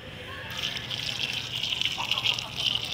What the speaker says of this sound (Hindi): अभी पानी देती हूँ।